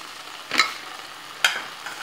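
A spoon stirs beetroot halwa with cardamom powder and nuts in a pan, making two short, close scraping strokes and a fainter third against a quiet sizzle.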